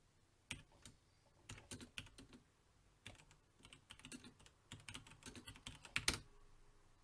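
Computer keyboard typing in irregular bursts of quick clacks with short pauses, close and fairly quiet, with no voices.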